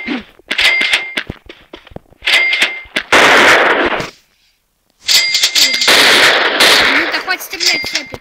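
A hero in the Blockman Go game shoots with a hat, producing rapid repeated metallic firing bursts with ringing tones, in loud clusters separated by a brief silence.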